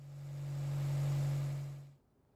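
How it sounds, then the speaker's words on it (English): A car engine running after an engine bay detail and cleaning, a steady mid-pitched idle that swells gently, then cuts off abruptly near the end, close and alone with no talk. "always start the engine after a detail, just to make sure everything is operating properly"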